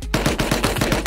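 Rapid automatic gunfire in the survival game Rust: a loud, close burst of about nine evenly spaced shots in quick succession, with no voices.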